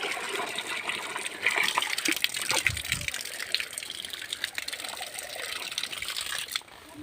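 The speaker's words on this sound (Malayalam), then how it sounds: "നമ്മളെ ആ തോട്ടത്തിൽ കൂടെ അങ്ങ് ഒഴുകുന്ന വെള്ളം കേട്ടോ" Water running through a plantation channel, a steady close rushing and trickling with brief louder splashes and no voices.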